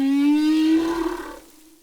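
A recorded whale call plays as a single long tonal moan, strong at first and then fading away over about two seconds with no voices present.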